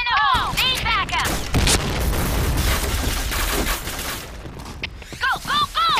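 Chaotic World War II shooter game combat with a booming grenade blast amid loud rattling gunfire bursts, layered with shouted game voice lines and announcer calls.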